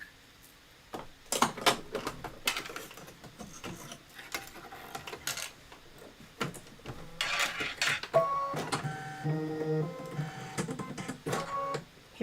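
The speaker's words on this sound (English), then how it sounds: "This is 6 minutes of stitching. I'm going to go ahead and let it stitch out" An embroidery machine stitches out a patriotic pillow design, a steady run of rapid mechanical clatter with bursts of thumping and faint hum, close and continuous with no talking.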